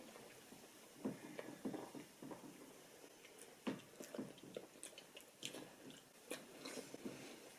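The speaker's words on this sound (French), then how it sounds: "On goûte toutes les deux le chocolat." Chocolate being tasted is chewed in a steady run of soft, moist bites and crunches, close but quiet over faint background noise, with no talk.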